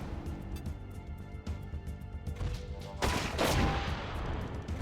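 Gunfire from a mech in the Front Mission 4 video game: rapid repeated shots crackle through, building to a louder, denser burst of fire in the final two seconds.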